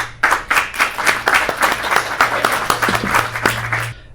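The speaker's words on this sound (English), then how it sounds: "Let's welcome them with a round of applause." An audience at a Battle of Ideas debate gives a round of applause to welcome the speakers, with sharp, fairly close claps in a steady patter that tapers off near the end.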